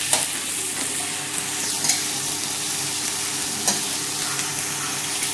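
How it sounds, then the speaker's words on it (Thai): Holy basil being stir-fried for pad kra pao, a steady loud sizzle with light scraping of a spatula in the pan, continuous and close, no voices. "นี่คือการผัดกะเพรา"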